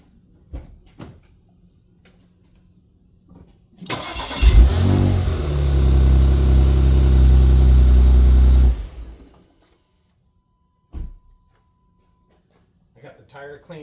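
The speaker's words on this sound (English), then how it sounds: "I'll start the car and rotate the tire carefully." A 2018 Porsche Macan S engine cranks and catches, settling into a loud, steady idle for about five seconds before shutting off; faint workshop sounds and a brief knock come before and after.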